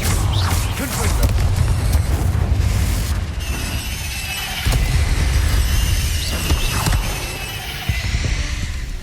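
A Confringo blasting spell goes off in Hogwarts Legacy during a fight with spiders: loud, deep booming explosions with crackling bursts that roll on for several seconds, over game background sound.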